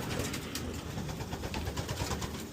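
Pigeons coo softly in the hen section of a loft, with low murmuring calls blending into a dense, noisy ambience throughout.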